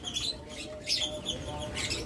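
Lovebirds and Australian doves in a bird shop chirp and tweet in short bright bursts, a steady mix of small calls at moderate distance, with no talk.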